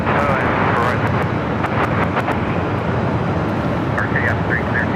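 An airliner lands on runway 24 at Los Angeles International Airport, its roar a steady loud wash beneath radio voices, with short chirping tones near the end.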